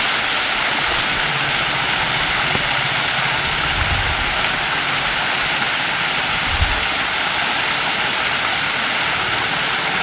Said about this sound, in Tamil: இந்த ப்ராப்பர்ட்டிக்குள்ளே ஒரு ரிவர் ஒன்று போயிட்டுருக்குங்க.